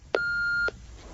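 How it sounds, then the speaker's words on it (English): A single steady electronic answering machine beep tone, about half a second long, clean and prominent, starting and stopping abruptly in a quiet room. "If you wish to leave a message, please do so after the tone."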